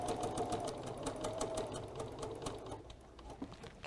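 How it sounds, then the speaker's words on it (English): A sewing machine stitching a seam through quilt squares, running steadily with a fast, even mechanical chatter close by, then slowing and easing off near the end. "and we're going to sew a seam."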